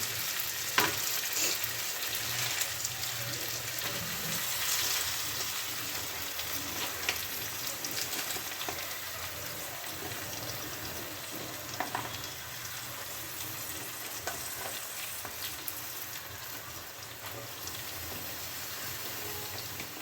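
Malabar spinach sizzling and frying in a pan with softened tomatoes, a steady broadband crackle and hiss running evenly throughout at moderate loudness, with no voices.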